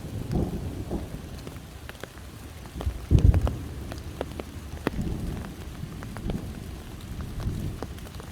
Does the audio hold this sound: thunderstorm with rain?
yes